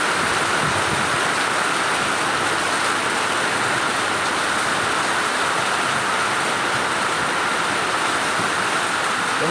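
Heavy rain and gusting wind in a winter storm sweep over an outdoor market, a dense, loud, continuous hiss with no breaks and no voices.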